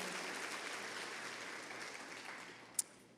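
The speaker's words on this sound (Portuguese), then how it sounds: "Aplauda o nome do Senhor mais uma vez." A church congregation applauds during a worship service, a soft, distant wash of many hands clapping that slowly tapers, with one brief sharp click near the end.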